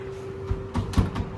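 The damaged cab door of a 1970 Ford F250 camper truck gives a few close clunks and rattles, a soft bump followed by two sharper knocks over a steady hum.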